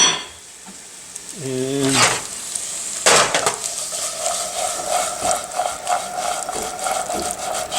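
Corn and onion stirred in a pan, giving a light sizzle with scraping, rattling spoon contacts under a brief spoken word.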